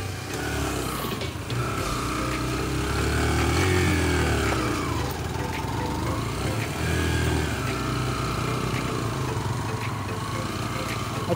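A Yamaha YBR motorcycle labours up a muddy, landslide-damaged mountain track, its mid-pitched engine droning steadily with rising and falling revs, close and loud throughout, with no talk over it.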